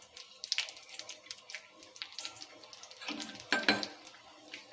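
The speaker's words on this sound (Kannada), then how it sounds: "ಅದೇ ಕಡೆದಾಗೆ ಒಂದು ಸ್ವಲ್ಪ ತುಪ್ಪ ಹಾಕ್ಕೊಂಡು ಇವು ಹುರ್ಕೋತೀನಿ ನೋಡ್ರಿ" Chopped raisins, almonds and cashews frying in ghee: a light crackling sizzle with scattered stirring scrapes and clinks of a spoon in the pan, close and moderately loud, with no talk.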